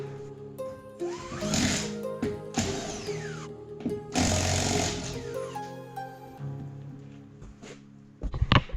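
Bursts from a Milwaukee 1/2 inch impact wrench during brake work on a budget turbo Miata build, several loud rattling hammering runs separated by short pauses, close by and with no talking.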